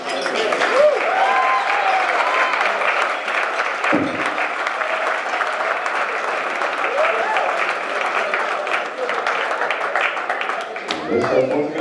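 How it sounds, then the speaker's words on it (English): Warm applause from wedding guests after the toasts, a dense sustained wash of many hands clapping for about twelve seconds with a few voices mixed in. "let's give a nice round of applause for all three speakers"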